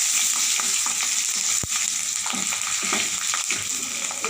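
Dried manathakkali berries and garlic cloves sauté in a hot pan with oil, giving a steady close sizzle broken by stirring scrapes and one sharp tap, with no talking.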